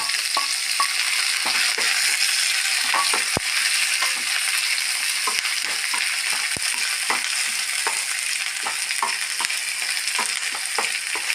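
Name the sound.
garlic, shallots and curry leaves frying in oil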